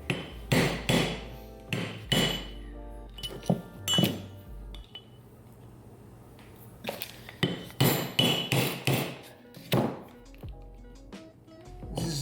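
A bushing is hammered into place during a 4L80E transmission rebuild: loud, sharp metallic blows in irregular clusters, close by, with quiet pauses between bursts.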